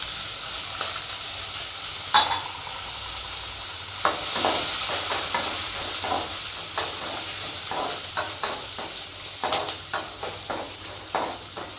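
Ginger, garlic and green chilli frying with browned urad dal in oil, a soft continuous sizzle broken by stirring knocks and scrapes.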